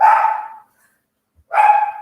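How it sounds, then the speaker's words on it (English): A dog barks loudly and close by, two sharp barks separated by a brief pause. "Excuse that. It's my sister's dog."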